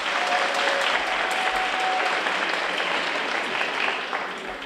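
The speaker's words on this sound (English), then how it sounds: "So please give Dr. Stern a round of applause." Audience applause at a high school senior awards ceremony, a steady, full wash of many hands clapping that holds evenly for several seconds and tapers slightly at the end, with no talk over it.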